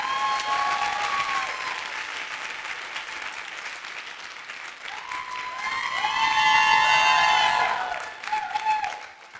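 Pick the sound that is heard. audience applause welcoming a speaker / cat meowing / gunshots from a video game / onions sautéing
audience applause welcoming a speaker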